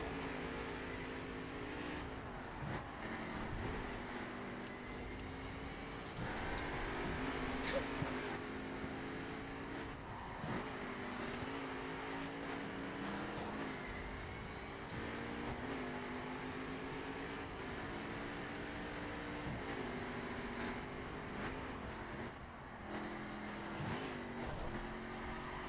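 A car engine roars loudly under nitrous, a steady, sustained drone with shifting pitch that rises and falls as the revs change, holding loud throughout.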